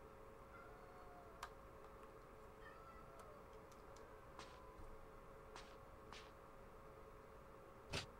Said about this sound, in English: You did, in fact, hear a cat